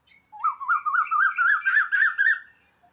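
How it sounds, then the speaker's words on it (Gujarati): An Asian koel gives a clear, rising series of about eight whistled notes, close and loud against silence, with no other sounds around it. "આ કયું પક્ષી કહેવાય? કોયલ. કોયલ કેવું બોલે?"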